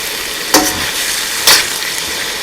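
Shrimp and chicken stir fry with vegetables sizzles steadily in a pan, with two short scraping bursts of stirring over the constant fry hiss.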